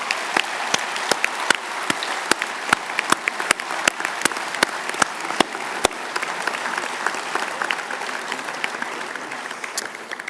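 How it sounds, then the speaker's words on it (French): Applause for departing board members at a French association meeting: a steady crowd of hands clapping for about ten seconds, with sharper individual claps standing out near the start. "je pense que vous pouvez une nouvelle fois les applaudir fortement"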